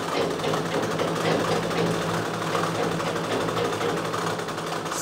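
An electric sewing machine runs continuously, stitching pieces of a Sabyasachi-style blouse with a fast, even mechanical whirr and rapid needle chatter, close and fairly loud with no speech.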